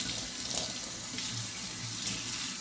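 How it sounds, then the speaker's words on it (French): Water runs steadily from a tap over a stainless steel sink, a continuous close splashing rinse with no voices. "Donc je vais rincer tout ça."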